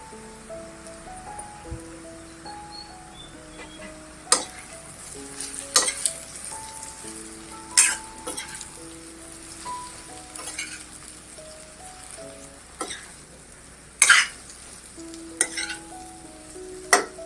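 Hakka noodles stir-frying in a wok with a soft sizzle, scattered sharp clanks and scrapes of a spatula, and faint tonal beeps in the background.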